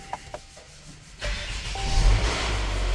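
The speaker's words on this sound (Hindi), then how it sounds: "तो अल्हम्दुलिल्लाह गाड़ी हमारी बिल्कुल जी स्टार्ट हो चुकी है" A Mercedes engine, previously blocked from starting after a crash event, starts up: a few faint clicks, then a sudden whoosh of cranking that settles into a loud, steady running rumble close by.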